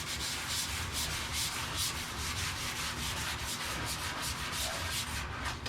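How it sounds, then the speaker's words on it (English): Wood is sanded by hand in steady back-and-forth strokes, each pass a distinct rasping swish in an even rhythm, heard up close with no talking. "So today, I sanded a little bit more."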